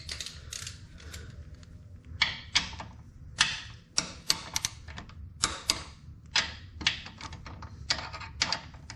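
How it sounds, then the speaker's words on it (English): Clicking ratchet of a torque wrench tightening the brake pressure modulator valve bracket nuts on a C7 to 20 pounds, a close series of short dry clicks and ratcheting bursts in irregular rhythm, with no talk. "we'll just make sure we torque those over to 20 pounds"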